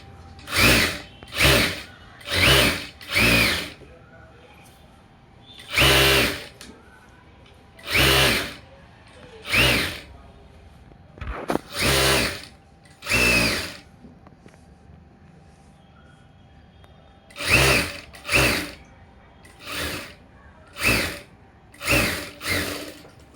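A sewing machine stitching a folded blouse hem runs in short loud bursts of about a second each, stopping and restarting in quick succession with brief quiet gaps, close up and alone.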